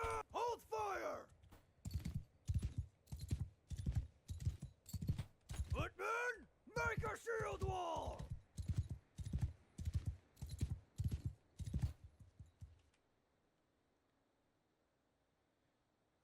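Galloping horse hooves from horse archers in the video game Bannerlord, a steady rapid clip-clop that runs loud for about twelve seconds under shouted battle commands, then cuts off to near silence.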